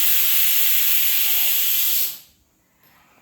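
A pressure cooker on a kitchen stove, cooking rice, lets out a loud, steady hiss of steam for about two seconds, then the hiss cuts off abruptly and leaves near silence.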